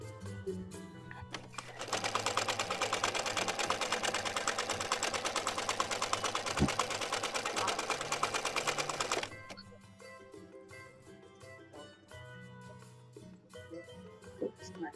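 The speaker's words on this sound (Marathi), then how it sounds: "मी याला पहिले सगळीकडून स्टिच करणार" Sewing machine running a continuous stitch along a double-layer canvas strip for a blouse, a loud steady rapid whir of about seven seconds that then stops, with quieter handling sounds around it.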